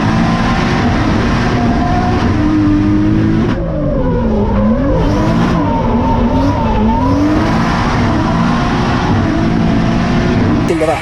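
At a drift battle on the Val-de-Vienne circuit, a drift car crosses the line sideways at about 103 km/h, its engine roaring loud and continuous with rising and falling revs and tyre squeal throughout.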